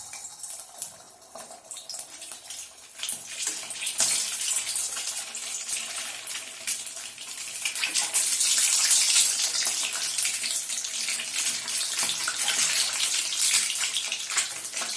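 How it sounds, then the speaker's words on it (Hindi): Peeled eggs fry in heated oil with a steady, loud, broadband sizzle and hiss that swells and grows busier midway, with no voices. "इसमें हम अंडे फ्राई कर लेंगे।"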